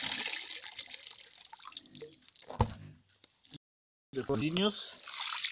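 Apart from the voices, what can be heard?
water draining and dripping from harvested azolla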